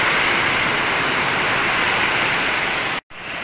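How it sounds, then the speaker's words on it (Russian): Heavy rain pours down in a summer downpour after hot weather in the Kuban, a dense, steady roar of water running into a drainpipe, loud and continuous, cutting out abruptly near the end. "Вот такой дождь."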